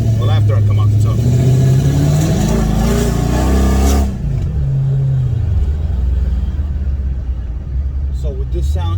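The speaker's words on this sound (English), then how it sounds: "So with this sound check, I actually dropped the Durango down to first gear so you can hear how it sounds when it's down at that" A Dodge Durango R/T fitted with OBX long-tube headers, driven in first gear with the rear open, rumbles loudly and close by. The engine note rises then settles into a steady deep drone, with a voice talking over part of it.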